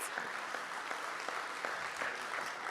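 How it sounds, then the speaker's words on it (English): Steady audience applause fills a conference hall during a scientific strategy dialogue, dense and continuous clapping at moderate distance with no voices over it. "A round of applause, because that was friggin' brilliant."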